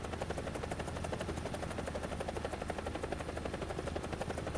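Military helicopter in a combat video game, its rotor chopping in a fast, steady rhythmic thump under a constant engine whine, loud and continuous throughout.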